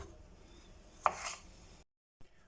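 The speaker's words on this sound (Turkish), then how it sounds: "İki adet domates doğrayacağız." A single crisp knife chop through a tomato on a cutting board, followed by a brief rustle and a short pause, then a faint second tap.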